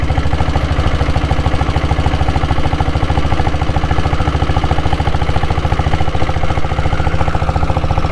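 A Royal Enfield Diesel Bullet motorcycle's single-cylinder diesel engine runs loud and close with a steady, rapid thumping beat, heavy and unbroken throughout.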